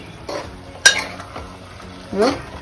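Ridge gourd curry with milk and sesame powder cooking in a pan on low heat, giving soft intermittent stirring and faint sizzling with a sharp clink of a utensil near the start and a brief scrape later.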